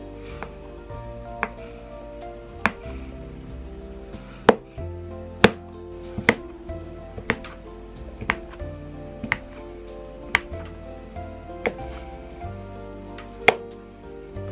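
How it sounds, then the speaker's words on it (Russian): A knife chops butter into cubes on a cutting board in steady, crisp taps, soft and close, with quiet music playing underneath. "Затем пластинки нарезаю на полоски и полоски нарезаю на кубики."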